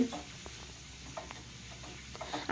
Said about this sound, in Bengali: এদিকে দেখুন আলুটাও বেশ ভালোভাবে ভাজা হয়ে গিয়েছে আর টমেটোও কিন্তু সফট হয়ে গিয়েছে তো খুব ভালো করে এইভাবে একবার মিশিয়ে নিতে হবে